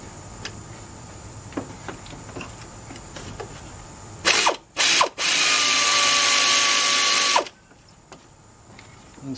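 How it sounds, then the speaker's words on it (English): A 12 mm bolt being loosened with a wrench on the timing belt of a 2011 Subaru Impreza: two short ratcheting bursts, then a steady, loud whirring rattle lasting about three seconds, close by with no talk. "So I'm just use this 12 millimeter right here and loosen that up."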